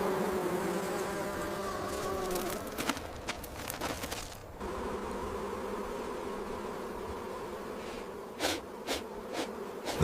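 Bees buzz in a dense, continuous drone in a wild African setting, loud and close throughout with a few sharp crackling knocks near the end and no voices.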